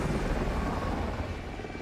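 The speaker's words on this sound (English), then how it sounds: "Do you guys hear the chopper?" A helicopter in a video game, a steady dense rotor rumble and whir held at constant loudness with no talk.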